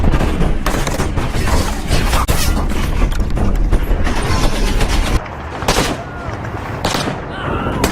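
Bomb explosions and gunfire from the film The Mountain II sound as loud, dense booms and bursts of shots throughout, dropping somewhat quieter near the end, with a narrator speaking over the action.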